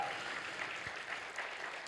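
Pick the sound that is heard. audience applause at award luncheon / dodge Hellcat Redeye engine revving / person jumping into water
audience applause at award luncheon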